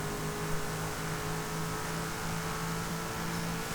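Alfa Romeo 8C sports car engine in the racing game Forza Horizon 5 hums with a steady, sustained drone at constant revs, moderately quiet with no talk over it.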